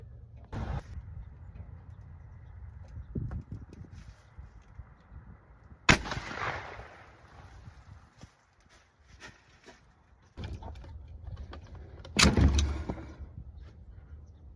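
Mossberg 500 shotgun firing Aria Ballistics elephant slugs outdoors, with two sharp loud blasts several seconds apart and a few fainter knocks and rustles between them.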